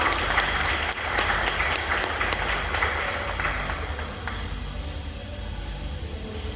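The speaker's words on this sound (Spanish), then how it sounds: "Un fuerte aplauso, por favor." Steady applause from a seated audience at a book presentation evening, dense clapping from many hands that holds for several seconds and then gradually thins out.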